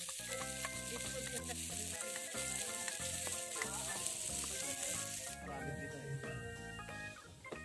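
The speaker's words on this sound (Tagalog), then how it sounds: "Let's put oil and then put the onion," Chopped onion sizzles in hot oil in a pan, a soft steady frying hiss heard faintly beneath louder background music throughout.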